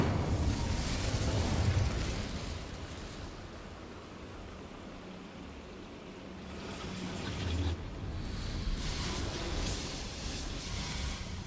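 The Incendio fire spell is cast in Hogwarts Legacy: a loud, rushing, hissing burst of flame up front fades into a softer, sustained roar, with further whooshing swells near the end.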